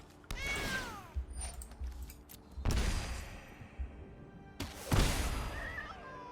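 A cartoonish cat meow sound effect from the card game Magic the Gathering Arena, a few short mewing calls alongside game thuds and chimes, heard alone.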